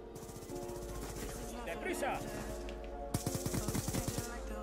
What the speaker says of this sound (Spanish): ¿Por qué me dispara mi compañero?